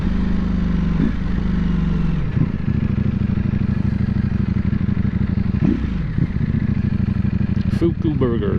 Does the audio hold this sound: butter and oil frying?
no